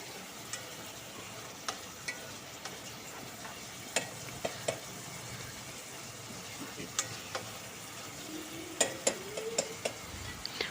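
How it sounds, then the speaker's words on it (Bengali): Spices and peas for poha are stir-fried in a pan, with a faint, continuous sizzle and scattered sharp ticks from a spatula tapping and scraping the metal, quiet and close. "আমি আরও একটুক্ষণ কষিয়ে নিলাম"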